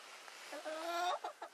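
A chicken of a large breed clucks and croons nearby in a coop, a drawn-out call followed by a few short clucks.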